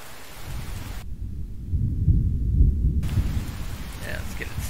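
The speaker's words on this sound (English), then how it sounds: "Figures that it's raining on the first night," Steady rain pours in the survival game The Infected while low rolling thunder swells through the middle and then eases, all fairly loud and continuous.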